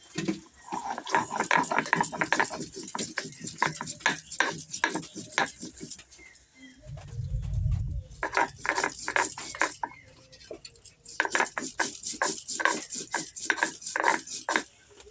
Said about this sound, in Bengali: এবার মশলাগুলো সব একসাথে বেটে নিচ্ছি।